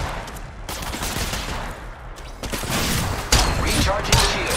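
Dense automatic gunfire from a battle royale shooter, Apex Legends Mobile, rattling continuously with sharp bursts and heavier impacts that grow louder toward the end, mixed with game effects.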